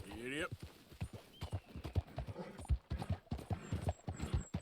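A horse in the video game Red Dead Redemption 2 gallops with steady clip-clop hoofbeats and gives a short neigh near the start, while someone talks over it throughout.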